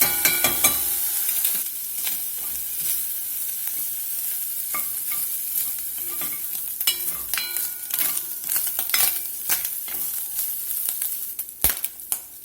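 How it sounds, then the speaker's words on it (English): Ham sizzling and caramelizing in a pan over medium-low heat for baked beans, a steady close frying hiss with scattered sharp pops and stirring scrapes throughout, one loud crackle near the end, no talking. "We're just going to let this cook here over medium-low heat till we get some nice color on here and get this ham caramelized"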